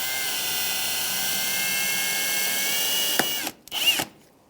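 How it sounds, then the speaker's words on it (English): A power drill whines steadily as it bores out the center of a plastic rivet on the bumper trim of a 1994-2001 Dodge Ram 1500, close and loud, then stops with a couple of short bursts at the end. "you can take a drill and you're going to drill out the center of that plastic rivet"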